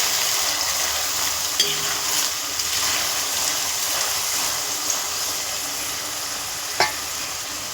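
Continuous loud hiss of food frying in hot oil, close up, with a few scattered light clinks from a utensil.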